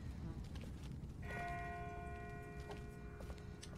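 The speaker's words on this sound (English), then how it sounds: "That's not the same bell as before. This one's further off." A distant bell rings out in The Walking Dead video game, its long harmonic tones sustaining from the second strike onward over a steady low rumble of ambient noise.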